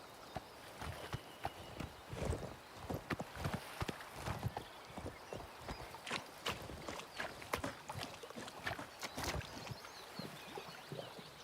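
Horse hooves clip-clop in the video game Oblivion Remaster, a quiet, steady run of soft repeated footfalls under a light background, with no talk.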